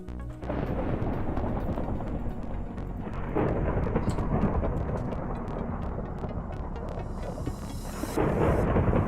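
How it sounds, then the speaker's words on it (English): Thunder in the Minecraft video game, a long loud rumbling roll that swells and fades over several seconds with crackling texture, sounding alone without speech. "the thunderclap that we added for the games for the token sound, it does fit in well with the thunder blasts that are in game here"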